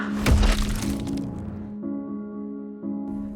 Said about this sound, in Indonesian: menginjak kepala Dr. Certain dengan sangat kencang, sampai kepalanya hancur